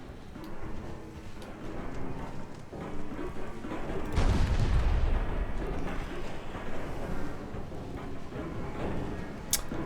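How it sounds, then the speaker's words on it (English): Torpedo explosions strike a ship in a naval dreadnought video game, a loud broad boom swelling midway over a steady rumble of battle noise and sea, with scattered smaller blasts around it. "Oh, there were some torpedoes."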